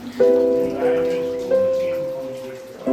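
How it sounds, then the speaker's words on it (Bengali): Water drips from the ceiling of Mawsmai cave in pitched, ringing drops: three close plinks, each fading slowly before the next, and a fourth at the very end, all clear and alone. "ওপর থেকে টুপটাপ টিপটিপ করে পড়ছে আবার জল"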